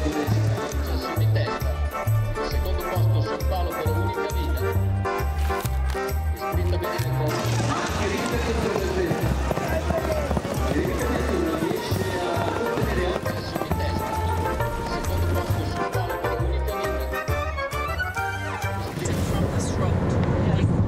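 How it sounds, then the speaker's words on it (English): Racehorses gallop in an annual horse race in the seaside town of Cervia, Italy, their rhythmic hoofbeats pounding under music while a narrator talks over the scene. "the annual horse racing event unfolds as scheduled"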